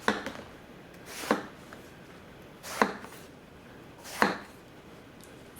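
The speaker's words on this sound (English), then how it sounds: "A little bit of a green eggplant here." A Konosuke Tsuchime gyuto knife slices through a soft green eggplant, giving four crisp, separate cuts spaced about a second or more apart, each a short thunk onto the board, close and fairly quiet.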